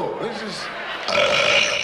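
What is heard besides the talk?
burp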